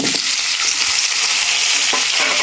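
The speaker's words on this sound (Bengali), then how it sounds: "এবার এই তেলেই আমি পেঁয়াজগুলা দিয়ে দিব। পেঁয়াজ মরিচগুলা ঢেলে দিব।" Steady, loud sizzling of onions and chillies frying in hot oil, a continuous crackling hiss with a few brief stirring clinks.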